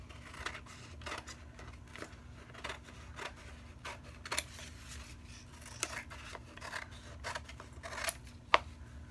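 Scissors snipping through paper for a junk journal, a series of quiet, irregular cuts and rustles close by in an otherwise hushed room.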